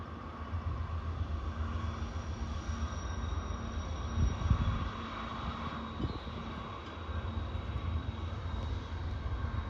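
A train rumbles past at Horseshoe Curve, a steady low engine drone with a faint tonal hum that swells slightly around the middle and holds throughout.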